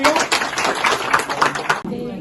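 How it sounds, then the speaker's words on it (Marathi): Applause from villagers gathered at a senior citizens' health camp, with dense, steady clapping from a crowd that ends abruptly. A quieter sound follows. "चला पुन्हा एकदा बाबांसाठी टाळ्या"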